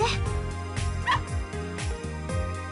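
Small puppy yips and whimpers in the Never7 visual novel, a few short high cries over a steady bed of game music.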